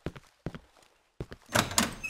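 Heavy doors in the horror game Cry of Fear opening and closing: several sharp wooden thunks in quick succession, then a louder rattling slam with a scraping latch, close and dry with no voices.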